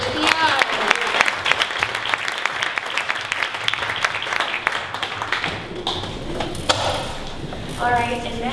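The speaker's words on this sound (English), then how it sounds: "one more round of applause for Pitch PR" A crowd at a 1 Million Cups Dallas startup pitch event applauds the Pitch PR team: dense, sustained clapping fills the room with sharp individual claps, and voices are heard near the end.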